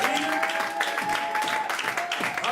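A church congregation applauds and cheers during a charismatic worship service, with dense sustained clapping mixed with shouts and a held tone under it, loud and close throughout.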